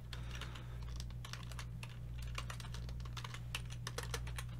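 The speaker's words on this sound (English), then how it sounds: "my keyboard is the clunkiest, noisiest thing you ever heard" Rapid, uneven clacking of a clunky computer keyboard, keys struck in bursts over a steady low hum.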